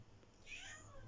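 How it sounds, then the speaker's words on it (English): A single faint, brief cat meow rises out of a quiet indoor room hum. "sorry, that's my cat."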